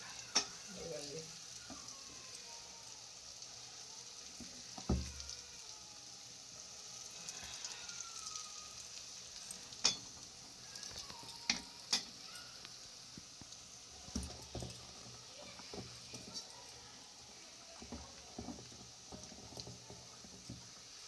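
Lentil batter dumplings frying in oil in a kadhai, a steady soft sizzle across the whole stretch with occasional stirring clatters and scrapes and a faint voice in the background.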